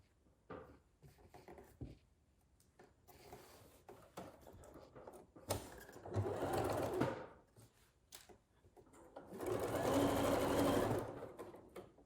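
A sewing machine stitching fabric for an envelope pillow, in two steady runs of quick mechanical whirring and needle chatter, with quieter handling clicks and rustles between them.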